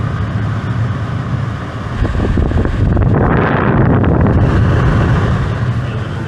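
A rooftop air conditioner installed on an enclosed trailer runs at full blast, making a loud, steady broadband whoosh of blowing air with a low rumble close by.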